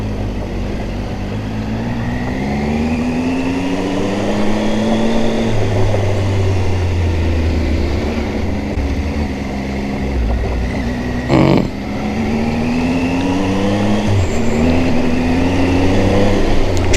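A car powers hard along a wet, loose gravel road with traction control engaged, its loud engine note rising and falling through repeated revving sweeps. A brief sharp knock breaks in partway through.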